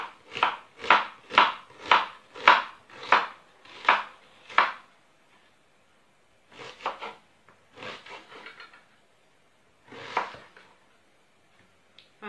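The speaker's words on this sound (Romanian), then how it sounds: "Așa, o tăiem pe toată." A knife cuts potatoes on a board, first in a quick run of about eight evenly spaced chops, then in slower, scattered single cuts with pauses between them, sounding close and clear.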